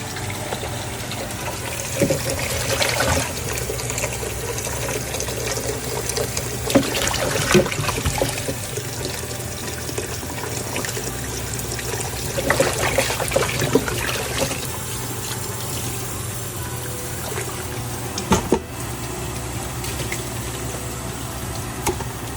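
Running water trickles and splashes steadily over beef chuck ribs being washed, with intermittent louder bursts and clatter as the meat is handled under the stream.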